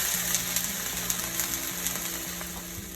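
Shrimp stir-fry in olive oil with seafood seasoning, a steady soft sizzle running throughout alongside a low, repeating background hum.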